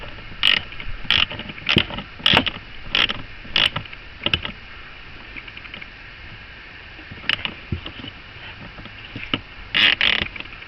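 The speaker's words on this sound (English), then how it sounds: "Once I know that's tight, I'm going to start ratcheting it." Hand ratchet tightening a bolt while a new blower motor goes into a 2001-2007 Chrysler Town and Country with a no-heat condition: bursts of quick metallic clicks, close and fairly loud, with pauses between strokes.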